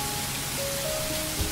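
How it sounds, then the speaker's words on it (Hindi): Steady rain pours down as a sound effect in a 3D animated Hindi moral story, a soft, even wash of falling drops with a faint tone running through the middle. "रास्ते में ही अचानक बारिश शुरू हो गई।"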